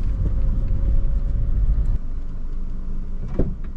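A Škoda Fabia taxi rolls through Vinnytsia streets with a continuous low engine and road rumble heard from inside the cabin, easing slightly midway, with a brief knock near the end.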